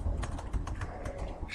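Fast, continuous typing on a computer keyboard, close-up key clicks in an irregular patter with no talk over them.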